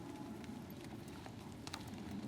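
Several horses walk around an indoor riding arena during a lesson, their hooves producing soft, irregular thuds over a steady low rumble, with a few faint sharper knocks.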